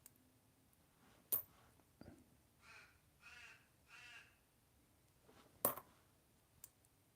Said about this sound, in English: Crows out the back having a little chat.